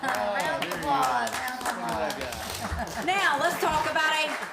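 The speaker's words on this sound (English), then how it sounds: "Round of applause." Audience at a board meeting applauding, a steady patter of clapping hands that continues for several seconds at moderate level, with voices mixed in.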